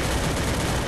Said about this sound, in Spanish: Se logra pegar unos tiros.